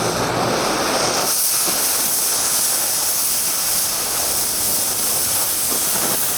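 An oxy-acetylene cutting torch flame hisses steadily while preheating steel, a loud, close, continuous broadband rush with no talk over it.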